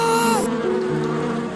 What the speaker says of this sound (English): A swarm of bees followed the kitten all the way to the shore.